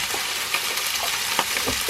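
Thick steaks frying in a pan with black pepper, giving a steady, close sizzle broken by a few small pops and spatters, with no voices.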